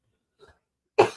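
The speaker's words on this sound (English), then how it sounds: "Get this cough under control." A single harsh cough bursts out near the end, close and loud, preceded by a faint throaty breath sound.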